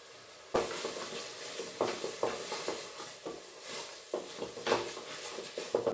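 Ginger garlic paste sizzles steadily in hot oil in a pan for egg biryani masala, with repeated scraping stirs breaking through the close, bright frying hiss; no talking.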